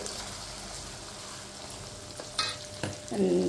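Mango chutney with coconut and ginger being stirred in hot oil, a soft steady frying hiss with a few scraping spoon strokes against the pan, close and moderately loud, no voices.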